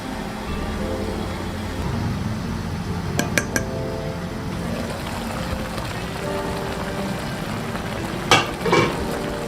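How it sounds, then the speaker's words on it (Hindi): Tomatoes being stirred into Afghani chicken in a kadai, with a steady low sizzle and scraping, plus a few sharp metallic clinks of the spoon against the pan. "तो अब इन टमाटरों को अच्छी तरह से इसमें मिक्स कर लेंगे।"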